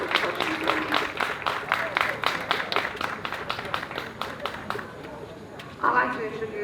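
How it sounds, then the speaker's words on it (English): Audience applause at a memorial event honoring the Middle Passage, a dense round of clapping lasting several seconds before fading, with a brief burst of voices near the end. "Please give him another big round of applause."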